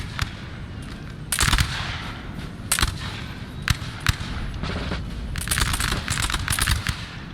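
Musket volleys crackle through a Napoleon: Total War battle at Friedland, with bursts of massed gunfire and scattered single shots popping over a low rumbling din, loud and close, with no talk.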